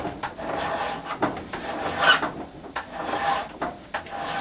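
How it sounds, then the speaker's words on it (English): A hand file rasps across the bevel of a handaxe in repeated push strokes, each a rough scraping burst with short pauses between, close and clear with no talking. "raise the back of your file up just a little and rock the file"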